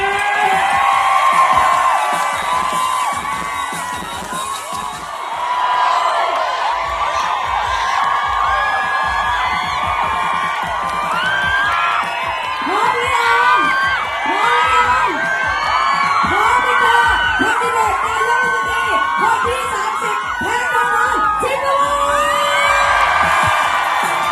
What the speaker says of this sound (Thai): ขอเสียงปรบมือดังบ้อนรับ